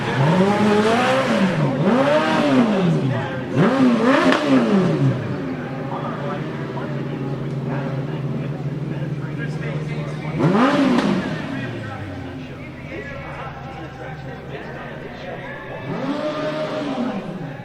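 Custom-built stunt show cars rev loudly in rising and falling bursts at an outdoor studio backlot, with several surging engine sweeps and a steady idle rumble between them, heard under a crowd and amplified announcer talk.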